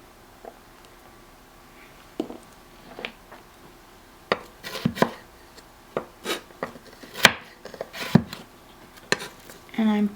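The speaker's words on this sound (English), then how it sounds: "So I'm starting with 2 potatoes and I'm dicing them to about this size." A knife dices two potatoes on a cutting board, producing irregular sharp taps and thuds that grow busier toward the end, with a voice talking at times.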